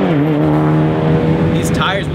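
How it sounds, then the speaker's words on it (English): A 2006 Mitsubishi Evo IX GSR drives on, its turbocharged engine droning steadily and rising as the turbo spools up, with a brief whistling hiss near the end, loud and close from inside the car. "Right when you hear that turbo spool up"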